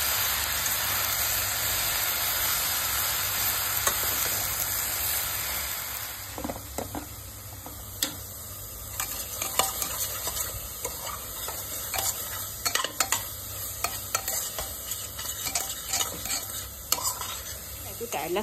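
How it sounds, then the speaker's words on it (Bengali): Chopped onion and leafy greens stalks fry in a pan with a continuous close sizzle, joined partway through by frequent clattering scrapes and taps of stirring. "পেঁয়াজ কুচি আর ওই শাকের ডাঁটাগুলো ভাজা করে নেবো"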